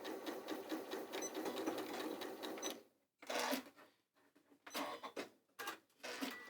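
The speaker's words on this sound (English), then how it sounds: "just remember to do a back tack at the end as well to make sure that the stitch doesn't unravel" A domestic sewing machine stitches a back tack in short close bursts, a steady run followed by several quick stop-start stitching spurts with brief silences between.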